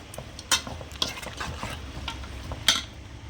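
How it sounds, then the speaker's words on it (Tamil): Chicken curry with masala being stirred in a cooking pot, a spoon scraping and clacking against the metal in a few sharp knocks over a steady low sizzle, close and alone. "இப்போ நல்லா கலக்கலாம், கறியை போட்டு நல்லா கலக்கிடுங்க."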